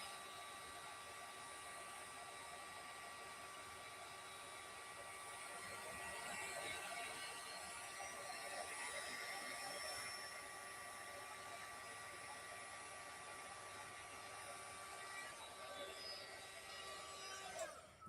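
Heat tool blowing steadily to melt embossing powder on a junk journal page, a continuous faint whooshing hum with slight swells that runs throughout, with no talking.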